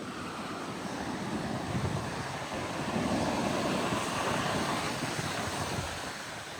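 Strong wind gusts across the coast at Half Moon Bay, California, a dense, continuous roar buffeting the microphone, with surf rumbling underneath throughout.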